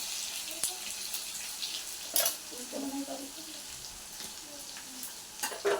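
Cumin, mustard seeds and garlic sizzle in hot oil with a soft, steady hiss broken by a few sharp clicks and pops of stirring.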